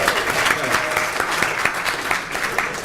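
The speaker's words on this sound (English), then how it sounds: "Can we have a round of applause?" Crowd applause for Amanda at a formal speech event, continuous clapping from many hands at a steady level throughout, no voices on top.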